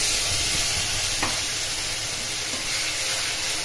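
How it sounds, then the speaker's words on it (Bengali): A paste of onion, garlic, ginger and chili sizzles loudly in a pan, a dense continuous close hiss with the faint scrape of stirring, no speech. "রসুন, আদা, লঙ্কা বাটা দিয়ে দিলাম।"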